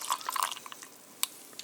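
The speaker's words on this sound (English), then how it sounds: "you pour in the coffee" Coffee pouring into a glass while an iced carbonated maple mocha soda is being made, heard as faint, quiet liquid trickles and drips with one sharper splash partway through.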